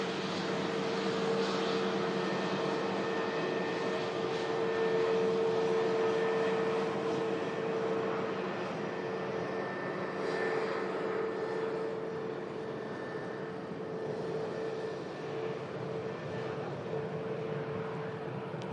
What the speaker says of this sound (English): Get a closer look at that as it taxis past us there at the RVP in a minute.